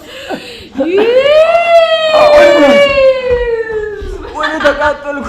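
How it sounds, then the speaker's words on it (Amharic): An ambulance siren gives one long wailing tone that climbs quickly, then slowly falls over several seconds. It sounds close and loud, with brief voices or laughter before it and after it. "አምቡላንስ"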